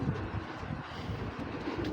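A pigeon, a large-headed Homer male, coos softly in low murmuring pulses over faint background noise, close but quiet.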